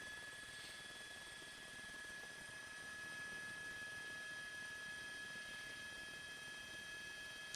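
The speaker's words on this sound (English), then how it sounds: "that LA County Sheriff's helicopter, which is right above him." Steady, continuous rotor and engine drone from an LA County Sheriff's helicopter overhead during a police pursuit, even and unbroken throughout, with a faint high whine above it and no voices.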